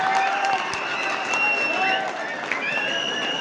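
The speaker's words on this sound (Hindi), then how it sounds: "जोरदार तालियां वाला" Spectators at a village kabaddi match in Pal Nagar, Dewas, break into steady, sustained applause and crowd noise, with an excited commentator's voice and whistles riding over the clapping throughout.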